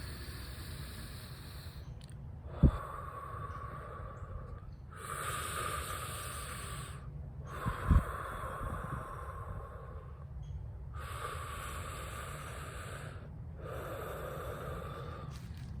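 A person breathes slowly and deeply during a calming breathing exercise, with long airy inhales and exhales alternating with quiet pauses, close and soft, with a couple of small bumps.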